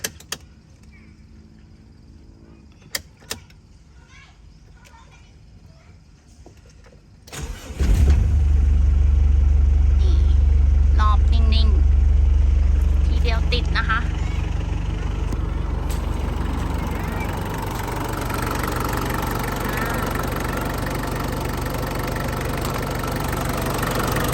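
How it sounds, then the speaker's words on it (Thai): A Mitsubishi Strada L200 pickup's 2.5-litre diesel engine cranks and fires after a few faint clicks, then settles into a loud, steady, close clattering idle that eases slightly in level, with no talking. "นี่เดี๋ยวให้ฟังเสียงเครื่องนะคะ สตาร์ท"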